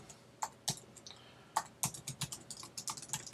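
A discussion board reply being typed on a computer keyboard: an uneven run of crisp, close key clicks, quick bursts with short pauses, fairly quiet and alone.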